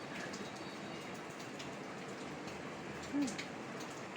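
Steady rain patters on a tin roof on a rainy day, a soft, even hiss of drops throughout with a brief louder tap near the end.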